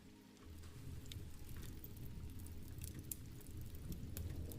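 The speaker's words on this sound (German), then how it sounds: "Sanfte Tropfen" Light rain patters softly and steadily onto a roof, a faint, even drumming of small drops with no voices present.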